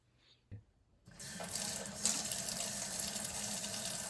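A kitchen tap starts running after a soft clunk, water pouring steadily into a sink to wash scallions, a close, constant splashing rush that lasts to the end with no talk.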